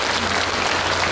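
Festival audience applauding at an outdoor opening performance of a Korean fermented-sauce festival, broad continuous clapping from a large crowd with a low steady hum underneath.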